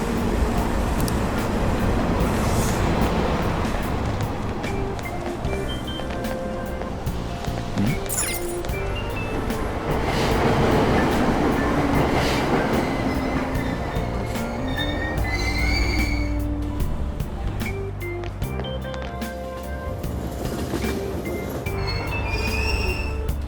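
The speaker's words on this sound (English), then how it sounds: "Train doors are now closing. Please stand back." Train departing a station in the video game Persona 5 Royal, with loud steady rail rumble and high squealing wheels, station announcements and chimes layered over it throughout.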